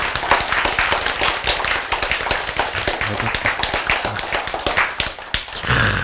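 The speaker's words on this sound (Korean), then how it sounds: "여러분 박수가 좀 크네요" A church congregation claps loudly during a sermon on stress and the gospel, sharp close hand claps in a fast uneven rhythm filling the whole stretch, with no talk over them.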